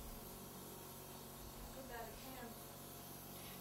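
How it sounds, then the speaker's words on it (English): An airbrush sprays color onto a celestial-themed triple-tier wedding cake, giving a faint, even hiss that runs without a break. "anybody can do this if you have an airbrush"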